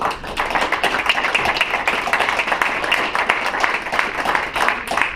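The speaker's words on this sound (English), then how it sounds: "let's give Luke Wimple a round of applause" An audience at a Taylorville, Illinois city council meeting claps steadily for Luke Wimple, a dense, even patter of many hands that holds at a fairly constant level throughout with no voices rising above it.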